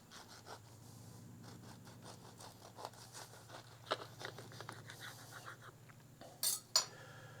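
A knife cutting a skewered turkey club sandwich in half, quiet sawing and rubbing strokes with light clinks and a couple of sharper knocks near the end, faint and close.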